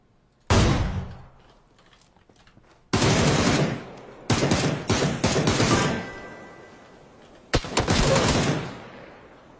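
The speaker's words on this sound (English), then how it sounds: "he was just blasting off shots" Bursts of automatic gunfire in the PUBG battle royale game, loud and close, come in several separate volleys with short gaps of quiet between them, some rattling rapidly and others ending in sharp single shots.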